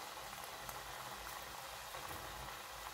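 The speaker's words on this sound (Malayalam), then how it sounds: "എണ്ണയിലോട്ട് ഇട്ട് കൊടുക്കുന്നുണ്ട്." Dal vada batter, Kerala parippuvada, sizzles steadily in hot oil, a dense, even bubbling and crackle close by that holds without a break.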